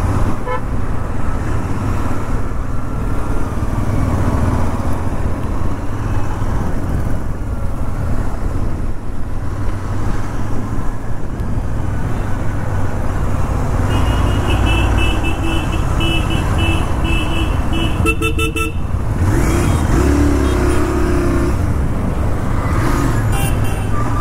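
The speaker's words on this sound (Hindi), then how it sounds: "अभी देख सकते हैं हम सभी लोग रॉयल एनफील्ड चला रहे हैं" Royal Enfield motorcycles, including a new 2023 Himalayan, riding through busy road traffic, with a steady engine and wind roar throughout, passing vehicles and repeated horn toots from nearby cars and buses.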